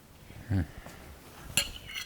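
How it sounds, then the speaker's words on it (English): A spoon stirs potato flakes in a dish, giving a quick soft scrape followed by a brief metallic clink, quiet and short with no talk. "I'm just going to give it a real quick stir and then leave it"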